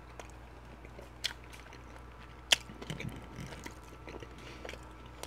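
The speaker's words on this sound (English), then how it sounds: "It's mainly meat that you're chewing on" Quiet, close chewing on tomahawk ribeye steak fat, soft wet mastication with a few sharp crunchy bites standing out, no talking.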